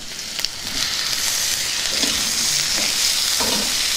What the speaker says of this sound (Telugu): బంగాళదుంప మగ్గింది ఇప్పుడు ఇందులో క్యాప్సికమ్ ముక్కలు వేసుకుందాం